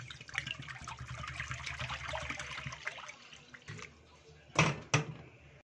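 Water runs and splashes as it is poured into a cooking pot in a home kitchen while preparing chicken, a continuous trickling pour followed by two brief louder splashes near the end, fairly faint overall.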